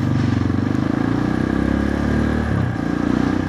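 A motorcycle engine runs close by while the bike is ridden, a steady throbbing drone with a slight wavering pulse and some clatter.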